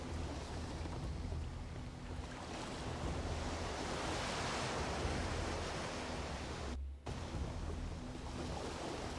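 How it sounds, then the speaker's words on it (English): Loud, steady ocean surf washes continuously through a video game scene, a dense roar of breaking waves with one brief dip and no talk over it. "The ocean's very loud."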